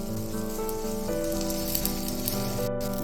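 Red chili sauce and mayonnaise cook in a pan while a dosa is made, giving a steady, soft sizzle that stays even throughout with a constant low hum underneath.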